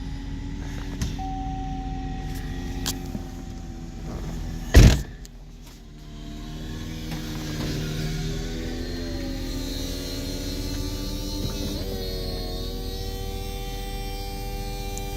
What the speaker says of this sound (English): So we'll put up the top.